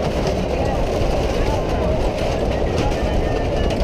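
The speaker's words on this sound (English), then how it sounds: "A little monorail." Small amusement park monorail at Great Yarmouth Pleasure Beach rolling along its track, a steady, loud, close rumble with a faint rattling texture throughout, heard from on board.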